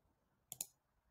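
Two quick, sharp computer mouse clicks in close succession, heard up close against a quiet background while working in Salesforce Data Cloud settings.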